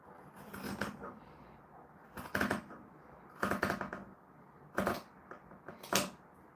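Scissors cut through fabric for a Christmas party poncho in several crisp bursts of snipping and rustling, spaced about a second apart, close and moderately loud.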